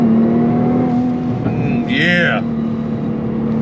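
A Nissan GT-R R35 engine drones loud and close during a launch control start, its steady roar rising as gears shift with a sharp whine near the middle. A voice speaks briefly over it.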